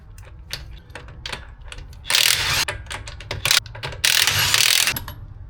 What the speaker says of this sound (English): You can take a wrench, put one inside the other, make it longer for more leverage.